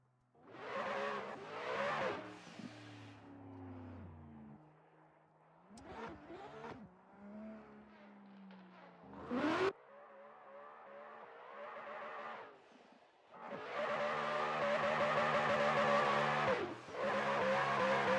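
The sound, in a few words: Ford Mustang drift car revving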